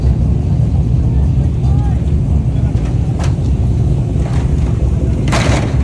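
A Mazda RX3 rotary car, a Mad Max style 20B three-rotor build, drives off with a loud, steady engine drone heard up close, with light talk and brief clatters over the top.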